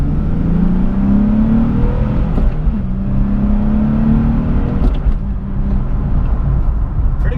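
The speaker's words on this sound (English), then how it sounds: "You get that V6, just instant throttle response." A V6 sports car accelerates hard in a loud cabin, engine note climbing in two rising sweeps between gear changes, then settling into a steady drone.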